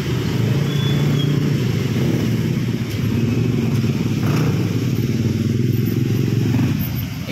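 Motorcycles passing on a road in the Philippines, a loud, steady engine drone with rumbling and crackle throughout, close by and continuous with no clear gaps.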